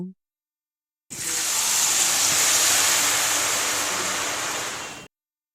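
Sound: potato shreds frying in hot mustard oil

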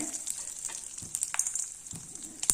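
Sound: tempering dried chillies and mustard seeds in oil

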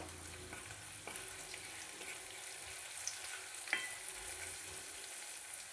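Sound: green chili and garlic sautéing in oil

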